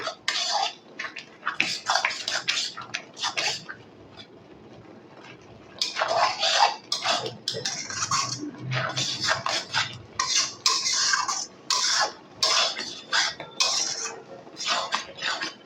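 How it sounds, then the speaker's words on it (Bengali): Carrot laddu mixture with powdered milk being stirred in a pan, repeated scraping and clinking of a metal spoon against the pan in irregular bursts, close and clear, with a brief quieter pause partway through. "জলটা শুকানো অবধি কিন্তু আমি নাড়তে থাকবো"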